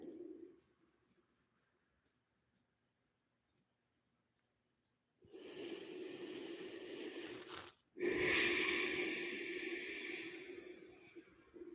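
Deep breathing during a restorative yoga session: a soft exhale, a long quiet pause, then a long, loud drawn-out breath with a brief break, close to the microphone.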